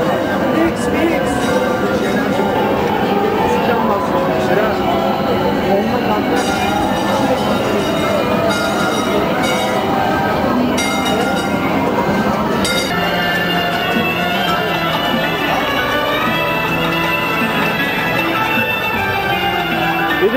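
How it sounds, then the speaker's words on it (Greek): A tram passes along a street in Istanbul, a long rumbling roll with metallic clinks and wheel noise heard close, while people talk over it throughout. "και το τραμ πέρασε τώρα"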